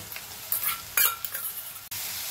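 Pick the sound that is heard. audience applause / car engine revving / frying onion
frying onion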